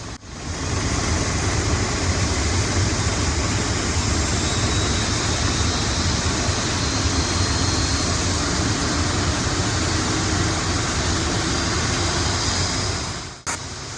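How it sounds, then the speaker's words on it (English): Boeing 737 jet engines spooling up during pushback on a hot ramp at Sky Harbor International Airport, a loud steady roar with a high whine layered over it, continuous and close. "can hear that engine spooling up now because I did clear him to start the engines"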